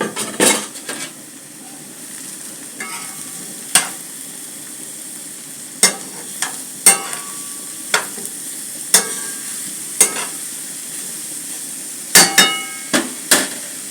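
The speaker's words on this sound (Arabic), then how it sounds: "شوقر البصل والثوم" Onion and garlic fry in a pan while a utensil stirs them, giving sharp, evenly spaced metallic taps and scrapes over a faint steady sizzle, close and alone with no voices.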